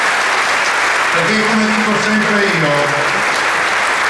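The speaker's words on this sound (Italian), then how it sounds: "un saluto e un applauso a tutti i giovani della Lega e i giovani italiani" Dense applause from a crowd at a Lega political rally, steady and loud throughout, with a voice speaking over it partway through.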